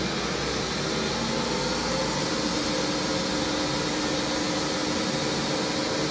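Metal lathe fitted with an electronic leadscrew, spinning at a higher RPM: a loud, steady, broadband whir and hum that fills the whole stretch without a break.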